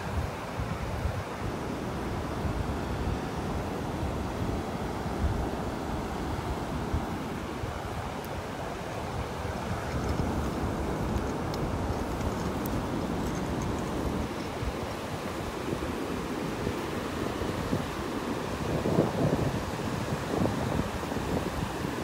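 Steady, loud wind buffets the microphone on a beach in North Naples, Florida, a continuous broadband roar with surf washing underneath and no voices.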